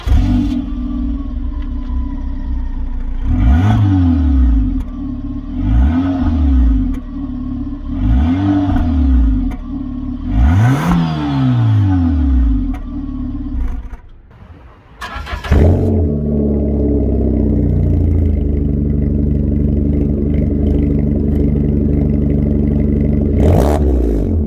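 A 2005 Peugeot 307 S CC with its rear exhaust back box removed drives along, engine loud and steady, with four rising revs and gear changes in the first part, a brief drop, then a constant lower drone.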